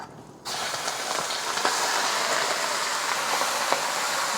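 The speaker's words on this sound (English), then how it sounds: "let it sear on one side for a minute or 2 before flipping over" Lean ground beef hits hot avocado oil in a pan and bursts into loud, steady sizzling with scattered pops and crackles, continuing evenly after a quiet start.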